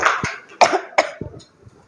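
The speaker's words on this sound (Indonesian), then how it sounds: "maaf, baru agak sedikit batuk" A teacher coughs several times in a classroom, a cluster of short, harsh bursts up close, with some throat-clearing mixed in and no other talk.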